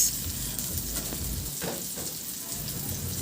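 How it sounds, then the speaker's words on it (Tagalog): Steady sizzle of the white part of onion leeks sautéing with garlic in a hot pan, a continuous crackling hiss with no talk over it. "Igisa ko na rin yung murang sibuyas, yung pinaka white part lang ng onion leeks."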